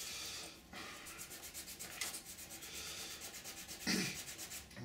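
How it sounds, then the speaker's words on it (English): A bamboo skewer rubs steadily against a 3D printed ABS mould part in quick, soft back-and-forth sanding strokes. It is faint, close and continuous, with a couple of brief louder scrapes and no voices. "bamboo skewer. You just sand down."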